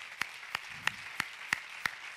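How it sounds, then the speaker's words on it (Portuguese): A church congregation applauds its productive group, with sharp claps landing in a slow, even beat, roughly three per second, over a faint background. "vamos dar um aplauso para o grupo produtivo"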